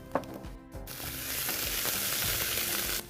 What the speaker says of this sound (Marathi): आपण छानपैकी फोडणी केली आहे कांदा परतून घेतोय